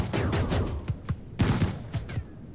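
Rapid bursts of gunfire from colonists shooting in RimWorld, a medieval-themed colony game, several sharp shots in quick uneven succession, loud and close, with no talking.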